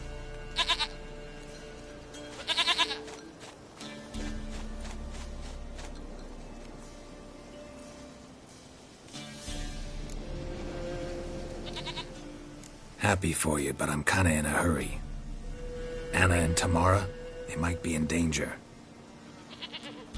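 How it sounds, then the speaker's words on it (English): Goat bleats from The Witcher 3, several short wavering cries scattered through the clip, interleaved with character dialogue and game music. "Goat of mine, dearest, sweetest goat."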